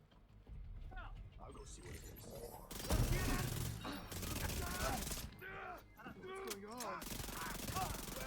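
Rapid SMG gunfire in The Division 2, loud bursts of automatic shots in a busy firefight while burning enemies scream and someone talks over the action.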